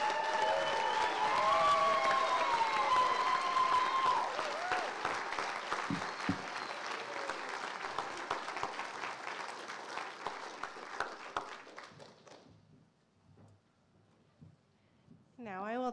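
Audience applause fills a hall at a White Coat Ceremony for medical speech-language pathology graduates, sustained and fairly distant, with a voice over it at first, then fading into scattered claps before a speaker begins.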